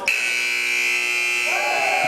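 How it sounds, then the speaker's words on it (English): A basketball game buzzer sounds at the end of a period in a gym, one loud sustained electronic tone, with crowd noise rising under it toward the end. "Got it to go and beat the buzzer."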